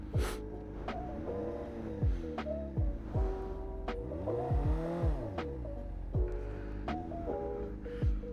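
A motorcycle engine revs repeatedly during a first burnout attempt, each blip sweeping up and dropping back in quick bursts, loud and close, with no tire squeal standing out.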